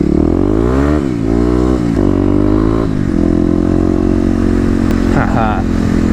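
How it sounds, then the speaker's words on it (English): A Kawasaki KLX motorcycle engine revs hard as its rear wheel spins on leaves, loud rising and falling engine tones up close, with talk over the engine. "a little bit of some wheel spinning action there on the leaves"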